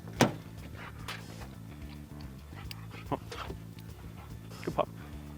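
A police K9 dog on a training search with officers gives short yips and whimpers, scattered and fairly close, over a steady low engine drone, with people talking now and then.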